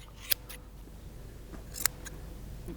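Shearing scissors snipping an animal's coat in a traditional Spanish livestock-shearing craft: two sharp, distinct clips stand out against quiet room noise, with a few fainter snips between them and no talking.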